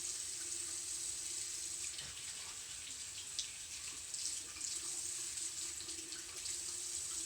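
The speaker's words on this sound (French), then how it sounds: "on s'assure de bien rincer pour pas qu'il reste de savon dedans" A makeup brush is rinsed under a running faucet, water pouring steadily into a sink with a constant hiss for the whole stretch and small splashy variations as the brush moves in the stream.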